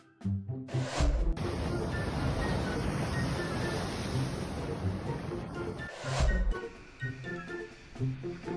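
A high ocean wave crashes onto the shore over a couple filming at the water's edge, a loud, close roaring wash that swells and sustains for several seconds before easing, with brief bursts of other noise at either end.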